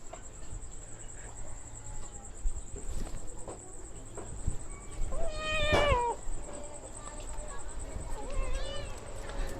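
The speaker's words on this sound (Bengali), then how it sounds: "এখানে আমার বিড়ালটা চলে এসেছে" A pet cat at a family home gives one clear meow partway through, over a steady high insect drone, with faint household voices and movement around it.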